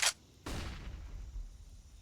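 Grenades going off in a Counter-Strike esports match: a sharp crack followed by a rumbling explosion that decays slowly, loud and close, with no talk over it.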